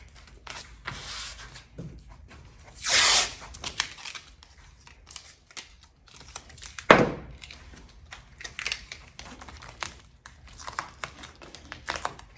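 Masking tape is torn and pressed onto a car body panel during paint prep, giving a loud ripping burst, a sharp snap, and scattered crinkling and handling noises with no talk.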